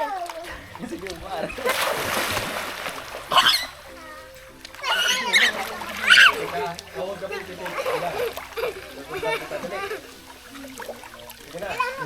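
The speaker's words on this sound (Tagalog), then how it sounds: "Makaya kong tumalon sa tubig." Water splashes from someone jumping into water, with several loud splashes and churning sounds mixed with children and adults talking and shouting nearby.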